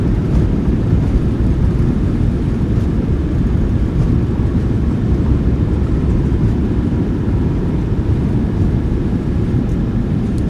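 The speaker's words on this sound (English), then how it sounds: "Nose down gently. Reversers are out. Decelerating." A Ryanair Boeing 737-800 rolls down the runway at Amsterdam Schiphol after landing with its thrust reversers deployed, heard as a loud, steady, close engine roar and rumble that stays even throughout.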